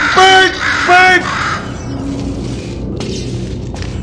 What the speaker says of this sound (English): Okay, that's probably the bird in it that laid the eggs.